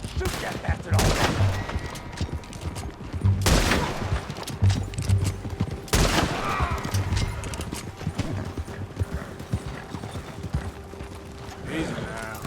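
Gunfire in the Western action game Red Dead Redemption 2, several loud sharp bursts and volleys mixed with horse hoof clip-clop and rumbling movement, while a voice speaks over the action.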